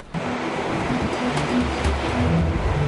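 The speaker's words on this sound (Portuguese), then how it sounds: "aproxima-se uma perigosa tempestade" Waves and wind in a storm at sea, a dense, steady roar of surf that fills the whole stretch at high loudness, with no pauses.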